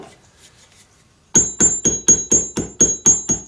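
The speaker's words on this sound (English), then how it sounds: "and then I'm going to hammer onto it." Nine sharp, evenly spaced hammer blows strike a metal button setter into cowhide leather, each a loud ringing metallic knock, following a quieter stretch of faint handling noise.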